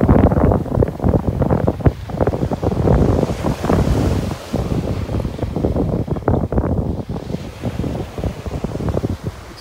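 Strong wind gusts over crashing surf on a beach in North Naples, Florida, roaring loudly and steadily with wind buffeting the microphone throughout.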